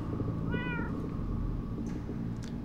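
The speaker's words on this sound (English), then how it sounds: "Cats." Inside the video game Minecraft Story Mode, a single short cat meow rises clearly over a constant low ambient drone, followed by faint soft clicks.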